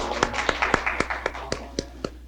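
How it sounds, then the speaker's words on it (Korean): Audience applause at a formal signing ceremony, sparse distinct hand claps in a loose rhythm that thin out toward the end, fairly close with a faint background hum. "박수 한번 보내주시죠"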